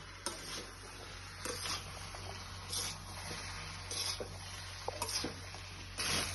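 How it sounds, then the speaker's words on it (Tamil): Egg fried rice with salt being stirred and mixed in a pan, with scraping utensil strokes and soft clinks recurring every second or so over a faint steady hum, no voices. "தேவையான அளவு சால்ட் போட்டுட்டு இப்போ இதை நல்லா மிக்ஸ் பண்ணிக்கலாம்"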